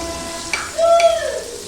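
Paneer cubes sauté in a pan with a brief, soft sizzle and a light stirring scrape.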